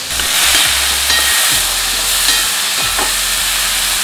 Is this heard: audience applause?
no